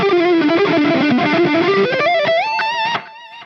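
An electric guitar plays through a Positive Grid Spark Mini amp with tape echo delay and distortion: a loud, driven melodic run, with repeats trailing after the final notes as the playing stops.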